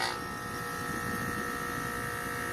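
An HVAC compressor runs with a steady mechanical hum and a bright whirring drone, even and continuous at moderate loudness, close by and without pauses.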